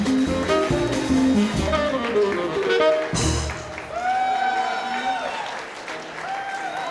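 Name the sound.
applause from audience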